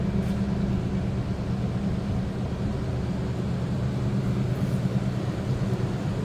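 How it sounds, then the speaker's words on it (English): A 1968 Mercury Cougar coupe's 302 V8 idles steadily with a deep, even rumble from the exhaust, heard up close and continuous. "Slip around to the back so we can hear this run."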